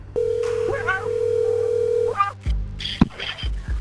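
A cell phone emits a steady dial-type tone for about two seconds during a 911 emergency call, followed by short electronic beeps and brief voices.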